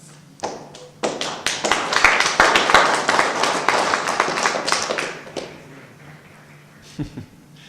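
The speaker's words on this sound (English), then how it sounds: "we're full of applause tonight" Applause breaks out in a council chamber meeting: a few scattered claps quickly build into sustained, moderately loud clapping that fades out after several seconds, followed by a couple of late claps.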